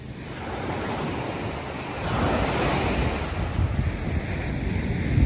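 Moderate ocean surf washes continuously onto Playa Coral beach in Puerto Escondido, Oaxaca, a steady broad roar of breaking waves with wind buffeting the microphone, swelling slightly toward the end.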